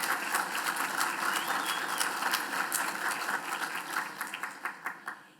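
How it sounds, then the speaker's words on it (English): Audience applause at a university business school MBA graduation ceremony, steady dense clapping from a large crowd in a hall, thinning into a few scattered final claps at the end. "I think that's worth a round of applause"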